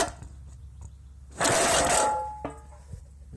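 A single recoil pull on a Johnson 20hp outboard motor makes a brief rasping whir of under a second, followed by a sharp click, over low steady background noise.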